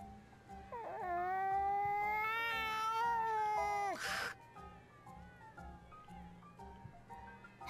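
A cat in Bravely Second: End Layer lets out one long, drawn-out, rising and falling meow, loud and close, then a sharp burst before the sound settles into quieter game ambience.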